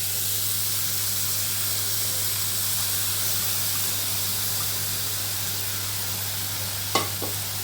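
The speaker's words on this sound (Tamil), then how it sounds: "அடுப்பை சிம்மில் வச்சுட்டு கொஞ்சம் லைட்டாக ஃப்ரை பண்ணிக்கலாம்." Chana with shallots and ginger-garlic paste shallow-frying in a pan over low heat, giving a steady, even sizzle throughout with a brief stir or scrape near the end.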